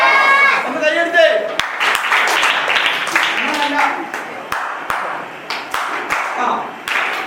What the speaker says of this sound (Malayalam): ഒന്ന് കൈയടിച്ചേ.